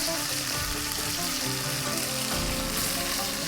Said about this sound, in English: So I got all that beef browned up, looking good.